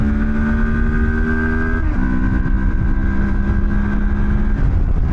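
An adventure motorcycle accelerates hard through the gears, its engine note climbing steadily, dropping briefly at a shift near two seconds, then rising again; loud, close and continuous with no talking.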